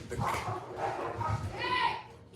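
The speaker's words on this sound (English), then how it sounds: "Did you hear the dogs? They just got to fight again." Dogs bark and yip in a scuffle somewhere in a home while someone talks over them, the dog noise mid-distance and intermittent beneath his voice.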